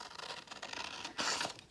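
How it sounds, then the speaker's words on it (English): Scissors cutting out a paper box shape for a children's craft activity, close and quiet with uneven snipping and rustling of paper, a louder burst near the end. "I'm gonna cut out my box."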